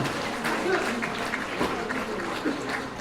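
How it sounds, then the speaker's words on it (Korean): A crowd at a book launch event gives hearty applause, a continuous bed of clapping from many hands. It sounds moderately distant and steady, with faint voices mixed in. "모두에게 힘찬 박수를 보내주시기 바랍니다."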